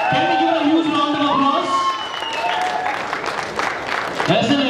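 A crowd at a women's bodybuilding contest applauds and cheers for a new IFBB Pro winner, sustained clapping with shouts, while an announcer speaks over it on a loudspeaker.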